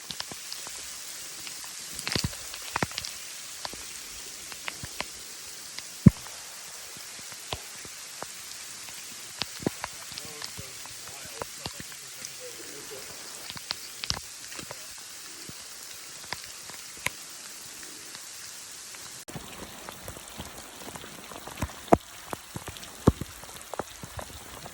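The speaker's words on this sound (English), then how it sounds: "we totally got rained out up in the mountains" Steady rain pattering on surfaces up in the Arizona mountains, a dense close hiss with scattered louder drops and taps throughout, no voices.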